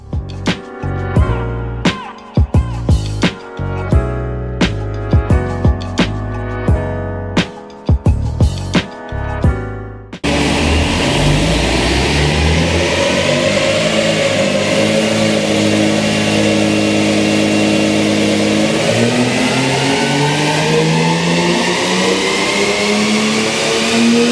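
Barra-swapped Nissan R31 Skyline cranking and starting, then settling into a loud, continuous engine run with rising revs and a steady, close exhaust roar.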